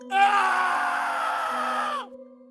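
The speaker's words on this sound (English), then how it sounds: "The old man screamed, but it was too late." An old man lets out a loud, sustained scream that holds for about two seconds and then cuts off, leaving a faint tone behind.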